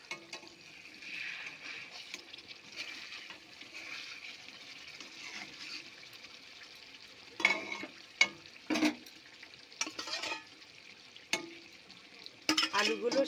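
Fried potatoes go into a pot of hilsa biryani, giving a soft simmering hiss with a few louder scrapes and clatters of a spoon stirring them in, close by and without talk.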